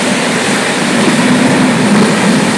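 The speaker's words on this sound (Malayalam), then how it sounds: "അത്രയും നമ്മുടെ സ്പീഡാണ് ട്രെയിൻ." A speeding passenger train at night, heard from inside: a loud, steady roar of rushing wheels and wind with faint rail rumble, no voices.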